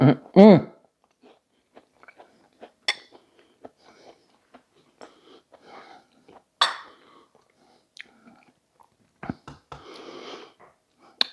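Bites of broccoli casserole being chewed close up, with crunchy bursts and soft mouth sounds scattered between quiet pauses and a few light clinks.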